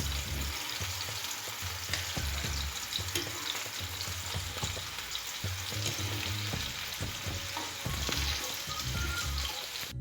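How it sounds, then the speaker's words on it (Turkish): Tomatoes char and get turned in a hot pan, producing a soft, continuous sizzle with repeated low bumps and scrapes from turning, steady and fairly quiet throughout. "közledik domateslerimizi şimdi çevireceğiz"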